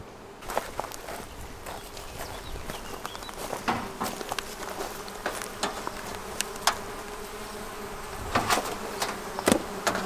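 Honeybees buzzing over an opened summer hive, a steady close hum punctuated by frequent sharp clicks and knocks of handling, with no voices.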